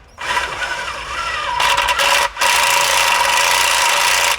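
Half-inch bolts being run in by hand on a Polaris Ranger 1000 XP slip-on exhaust: a continuous close metallic rubbing and threading rasp with brief pauses, no talking.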